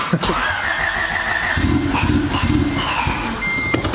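A Honda Civic wagon with a new engine, Bosch injectors and a turbo setup cranks and catches, a brief, noisy, rough engine start close by.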